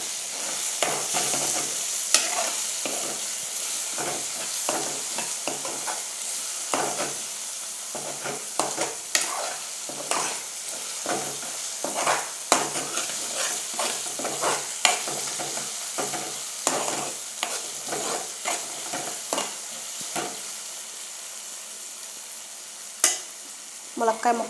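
Tomato pieces softening in a pan for a drumstick tomato curry, a soft steady sizzle with frequent light scrapes and taps of a spoon stirring throughout.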